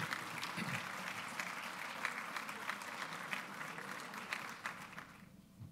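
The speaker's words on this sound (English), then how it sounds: "Let's give them a nice round of applause and congratulations" An audience applauds an award winner at a District Energy Space Award ceremony with steady, moderately distant clapping that fades toward the end.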